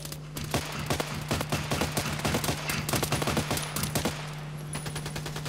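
Rapid automatic gunfire from the online shooter game Contract Wars, with dense bursts of sharp shots crackling steadily over a constant low electronic hum and no voices.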